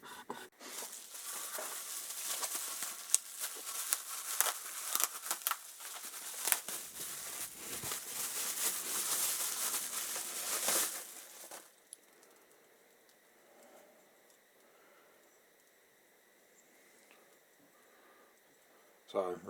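Wiseco 75mm motorcycle pistons for a Kawasaki Z1000J project being unwrapped, with close crinkly rustling and tearing of packaging for about eleven seconds, then quiet room tone.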